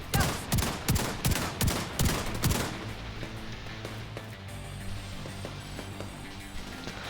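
Enemy gunfire in a video game: a rapid volley of loud, sharp shots for the first few seconds, then fading into a low rumble and scattered quieter pops.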